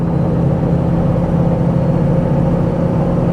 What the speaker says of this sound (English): The motor sounds good and healthy.